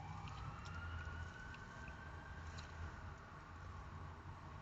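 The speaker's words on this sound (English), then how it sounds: "Whenever we hear an ambulance siren, we get alarmed." An ambulance siren wails faintly at a distance, its steady rising and falling tone carrying over a low rumble of background noise, with no one talking.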